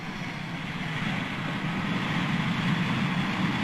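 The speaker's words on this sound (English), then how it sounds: "7021 is clear for takeoff." Airliner rolling for takeoff on the runway, a steady broad roar of engines and rumble that swells slightly over a few seconds, heard from a distance with no talk.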